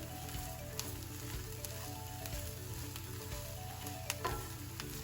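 Stuffed mushroom filling sizzles steadily in a hot pan while it melts and is stirred, with a constant close frying hiss and occasional light scrapes, and no talking.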